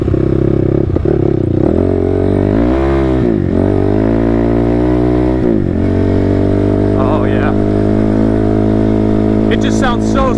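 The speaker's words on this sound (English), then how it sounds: "It just sounds so smooth with freshly adjusted valves and everything." A Honda TRX ATV engine with freshly adjusted valves runs steadily and loud for the whole stretch, its even drone dipping and rising briefly a couple of times, with a voice talking over it.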